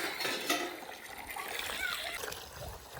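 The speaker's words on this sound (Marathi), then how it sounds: "सो भांडी घासायला लागलं." Water splashes and trickles steadily, as if from a running tap over dishes being scrubbed at a farmhouse, with soft clatter and a faint voice in the background.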